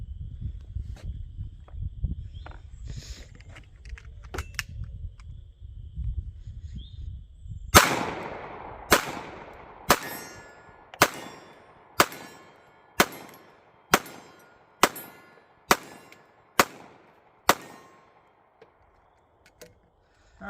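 A Ruger LCP Max .380 pistol fires about eleven sharp shots at targets in a steady, somewhat rapid rhythm, each report loud and crisp with short ringing decay, preceded by low rumbling wind or handling noise.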